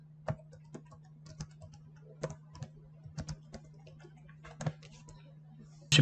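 Computer keyboard typing in a quiet room over a low steady hum: sparse, soft keystroke clicks in small irregular clusters, ending with a louder final tap.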